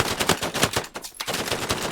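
Rapid bursts of close, loud gunfire in the World War II shooter game Hell Let Loose, repeated shots in quick rhythm with a brief gap midway.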